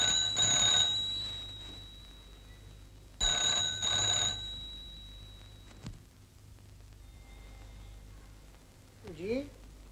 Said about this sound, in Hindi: जी हाँ, सरकार आपका फोन।